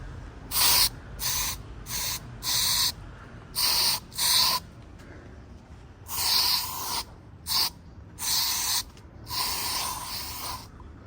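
Aerosol spray sprayed on plants lets out about ten short bursts of broadband hiss, in uneven rhythm and close by, with quiet gaps between them and no talking.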